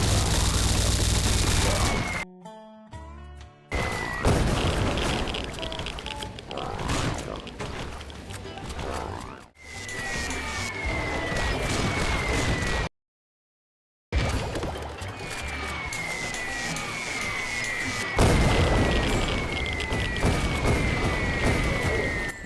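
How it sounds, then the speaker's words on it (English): Atomic bomb explosions in the Swamp Attack video game, a string of loud booms and crashing blasts with dense gunfire-like rattling, game audio running almost nonstop with a brief silent gap partway. "I use a couple Atomic Bomb here and there,"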